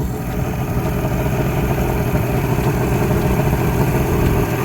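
An outboard motor with a faulty trim runs at a steady idle on flushing muffs, a constant close, loud mechanical drone with no voices.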